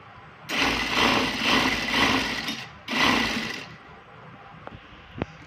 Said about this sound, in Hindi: अब यहाँ पे ऐसे हम लोग सिलाई लगाते जाएंगे बिल्कुल एज पे।